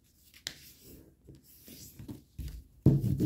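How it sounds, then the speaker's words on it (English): Paper being folded into an origami fighter jet, with soft, close rustles and light creasing rubs. A sharper, louder crinkle comes at the end. "fold this point in, flip it over, and then repeat the same"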